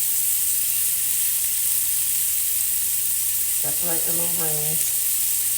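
Burger patties with onion rings fry in a hot pan, making a loud, steady, unbroken sizzle, while a voice speaks briefly over it near the end.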